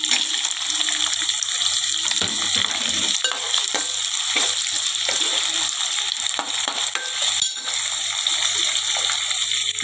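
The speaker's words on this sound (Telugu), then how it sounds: "ఇదిగో తాలింపు గింజలు వేసేసుకుందాం" Tempering seeds fry in oil for gongura curry, a loud continuous sizzle with sputtering pops and spoon-stirring scrapes, close up and without talk.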